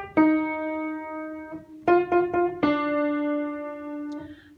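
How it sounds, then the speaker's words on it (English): Single plucked notes play the opening two phrases of Beethoven's Fifth Symphony theme in rhythm: one long sustained note, then three quick short notes leading into another long ringing note, clear and up close. "2 phrases to Beethoven's theme from the Fifth Symphony,"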